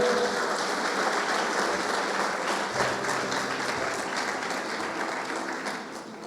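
A church congregation at an apostolic conference applauds for the Lord, a dense, steady wash of many hands clapping throughout that tapers slightly at the end.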